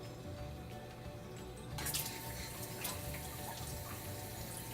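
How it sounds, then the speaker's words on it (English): Water from a modified Apex aquarium auto top-off trickles and splashes into a reef tank sump, a steady wash of running water that swells after a quiet start and continues alone at close range. "See, it drips it all right back down into the sump."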